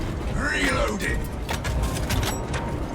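A tactical auto bolt rifle loaded with Kraken penetrator rounds is reloaded in a video game, giving off a run of clicking, ratcheting mechanical clacks under steady background voices and game noise.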